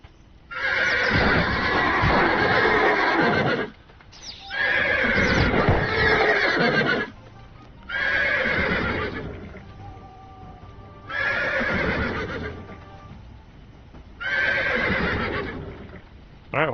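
Horse in the Ars Notoria fantasy survival game neighing loudly in five long, repeated whinnies, each separated by a brief pause, close and with no talk over them.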